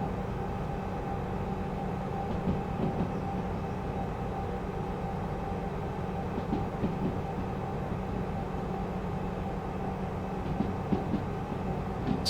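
Steady rumble of a train under dynamic braking in the Derail Valley railway simulator game, heading toward a steel mill; a continuous low, even drone with faint clanks, no talking.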